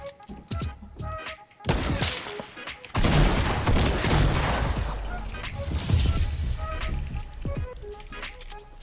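Gunfire in the Fortnite video game during a base raid, with loud bursts and crashes packed densely through most of the stretch and shouting voices over the chaos.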